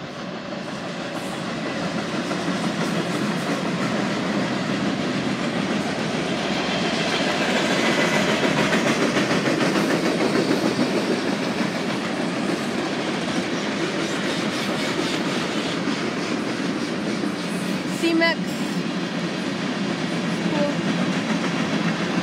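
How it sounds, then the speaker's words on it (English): A BNSF freight train with covered hopper cars rolls past at close range, a loud sustained rumble with rhythmic wheel clatter that builds and holds, plus a brief squeal near the end. "comes the BNSF train."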